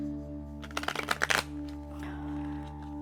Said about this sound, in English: it's kind of hard to grasp this many cards and shuffle them